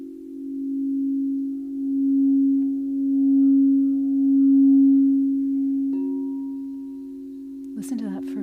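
Crystal singing bowls tuned to 432 Hz ring as a single steady, pure sustained tone with slow, gentle swells in loudness, close and calm, joined by a second faint tone near the end before a brief rustle.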